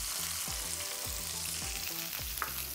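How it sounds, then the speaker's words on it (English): Salisbury steak frying in a pan, a dense, steady sizzle with faint rhythmic knocks repeating underneath, no voices. "So we're just letting our Salisbury steak cook right now."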